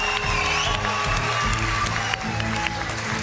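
Applause and cheering from a talent show audience, a dense wash of clapping that holds steady through the whole stretch, with music or crowd noise beneath.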